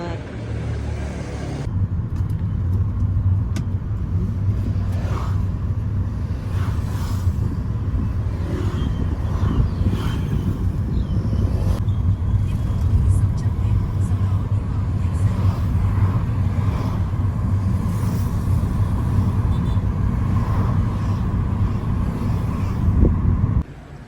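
Steady low road rumble from a bus and passing traffic in Dalat, Vietnam, loud and continuous for the whole stretch, with engine drone and occasional rattles and knocks close by.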